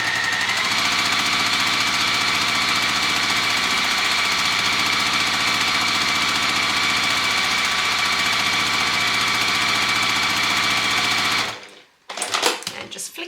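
A sewing machine stitches pinned quilt pieces in one long, even, steady run that hums continuously at close range before stopping abruptly, followed by brief handling clatter.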